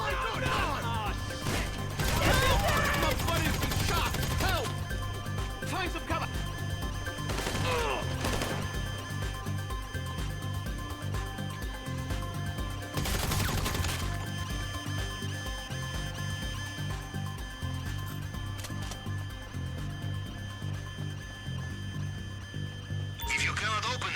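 Gunfire in GTA V Online during a heist mission, with bursts of shots and crashing impacts over a steady game music bed, at times loud and close.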